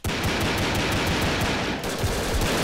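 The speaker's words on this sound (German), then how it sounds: "Oh, das war ein Sniper." Gunfire in the blocky shooter Brick Force, a dense stream of rapid, loud shots that holds steady and barely pauses midway, with no talking.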